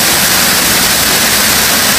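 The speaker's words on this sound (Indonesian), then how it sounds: "Ini air terjun yang sering menjadi tempat objek wisata masyarakat kampung setempat" A waterfall in Kalimantan, Borneo, on plantation land used by local villagers as a recreation spot, roars as a dense, steady broadband rush, loud and close, with no voices over it.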